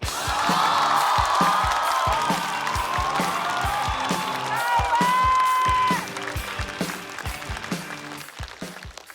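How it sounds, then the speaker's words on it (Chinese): Studio audience at a stand-up comedy show applauds and cheers to welcome a comedian, loud clapping with whoops and a sustained tone that drops off after about six seconds into lighter, scattered claps. "我们掌声欢迎刘大卫。"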